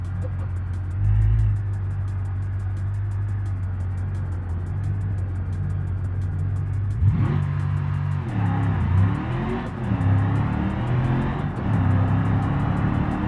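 Pickup truck in 4-wheel drive in the BeamNG driving game, its engine droning loudly and steadily, then revving harder as it accelerates, with shifting pitch and a few mechanical thumps.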